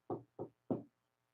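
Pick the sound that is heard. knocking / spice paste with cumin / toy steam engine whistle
knocking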